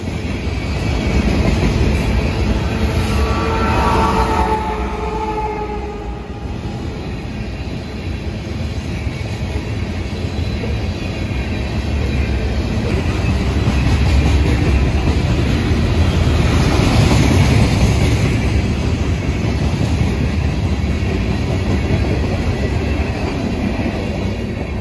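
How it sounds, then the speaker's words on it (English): A long freight train with a Canadian National painted DPU locomotive rolls past a crossing, a loud, continuous rumble of wheels with clickety-clack and faint squeals swelling and holding steady. "With a Canadian National painted DPU, this would give us our sixth Class 1 locomotive of the evening."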